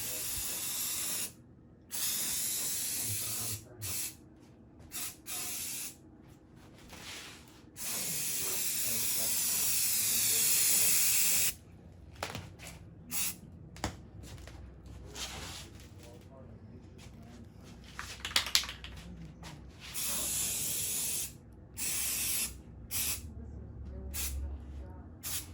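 Undercoating sprayed onto the tailgate of a 1952 PD4103 bus under restoration, loud hissing bursts of varying length, one long continuous spray, separated by pauses, with people talking in between.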